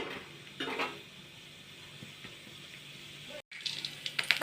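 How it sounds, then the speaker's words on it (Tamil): Chana dal goes into hot sesame oil in a pan for garlic chutney, with soft pan hiss and clinks of a utensil against the metal that end in a quick run of louder taps. "இப்போ எண்ணெய் காஞ்சதும் கடலைப்பருப்பு போட்டுக்கலாம்."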